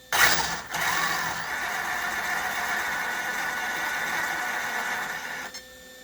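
A small electric motor in a 1/10-scale Kyosho Fazer MK2 RC car whirs up with a quick burst, then holds a steady high-pitched whine for several seconds before cutting off abruptly.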